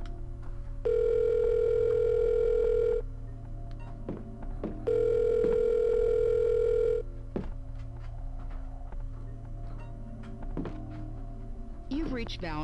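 Telephone dial tone in the Silent Hill Shattered Memories video game, two steady tone bursts of about two seconds each separated by a short gap, heard over low background game ambience, with a few soft clicks.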